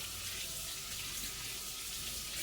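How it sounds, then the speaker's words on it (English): Cold tap water runs steadily over tomatoes being washed in a kitchen sink, a continuous close splashing hiss with no talking. "You wash it in cold water."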